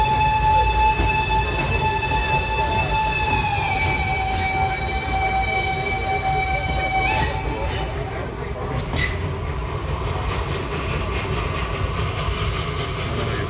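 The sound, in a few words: steam train running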